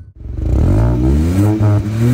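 A Hyundai i20 N Line engine revs through its double exhaust, a close, loud rising roar that builds quickly and holds, with pitch climbing and dipping slightly.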